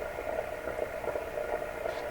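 Static from an Electrohome tube radio tuned near the top of the AM band, a steady hiss with soft pops and crackles rising and falling under it at moderate, fairly distant loudness.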